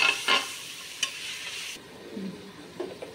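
Spices with salt and turmeric frying in hot oil in a home kitchen, with a spoon stirring and scraping the pan, soft sizzling beneath a few sharper stirring clicks and no talk.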